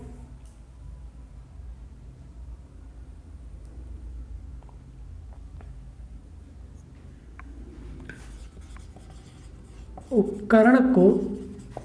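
Hand-writing a definition during a surveying lecture on the theodolite, a soft scratching of pen or chalk heard mostly near the end under and between a man's spoken explanation in Hindi.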